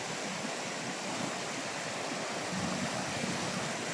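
A river stream flows steadily at a mountain resort, a continuous broadband rush of water close by with no pauses and no voices.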